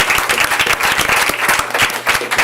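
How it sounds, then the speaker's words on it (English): A school board meeting audience gives a loud, dense round of applause for an elementary school student leader, steady rapid clapping throughout with no voices on top. "Let's give a round of applause"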